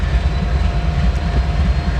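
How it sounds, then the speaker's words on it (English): A freight train bound for Los Angeles via Kansas City, heard near the tracks outside Chicago, gives off a steady, loud, low rumble with no pauses. "I believe it's a Kansas City train"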